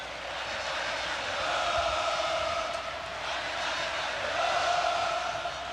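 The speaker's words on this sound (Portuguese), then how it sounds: "Agora a torcida do Flamengo enlouquece o Maracanã." Flamengo supporters fill the Maracanã stadium during a 2009 Brasileiro match against Grêmio with a steady, massive roar that swells and ebbs, sounding distant and dense like a huge crowd.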